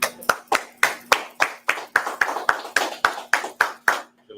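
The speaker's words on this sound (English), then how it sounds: "All right, let's clap it up." An audience at a street preaching gathering claps in a steady, rhythmic beat, about four claps per second for roughly four seconds. The clapping is close and crisp, with a faint voice underneath.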